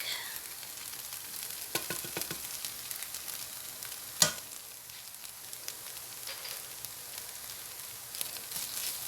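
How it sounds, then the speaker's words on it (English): Garlic sizzling in a pan with caramelized onions, a soft steady frying crackle with a few scraping stir sounds and one sharp clink, close and alone without voices. "the onions have started to caramelize, so now I'm going to add in my garlic"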